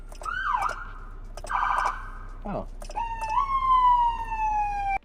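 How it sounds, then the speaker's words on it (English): Police siren sounds switch between patterns: a quick yelp, a rapid warble, then a long descending wail, loud and close, with a short exclamation at the start. "Different siren noises."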